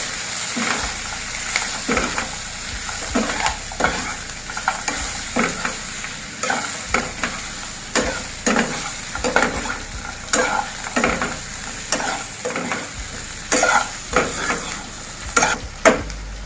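Raw banana fry stirred with chili powder in a frying pan: a steady sizzle with repeated scraping strokes of a spoon against the pan, close and regular throughout.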